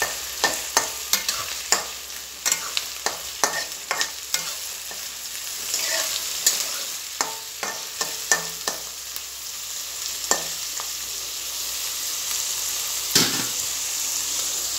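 Chicken warming in a pan while cumin rice is also prepared, with sizzling frying noise and repeated sharp stirring clacks throughout, close and steady, no talk.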